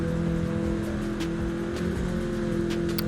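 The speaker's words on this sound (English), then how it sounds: "The engine sounds, as an aside in this game, to me personally, are fantastic." Car engine in the racing video game Forza Horizon 5, a steady sustained hum with a low rumbling drone held at an even level throughout.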